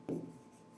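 A single short stroke of writing on a board during a Sanskrit grammar lesson, a quick soft scrape that fades within a fraction of a second, with no speech over it.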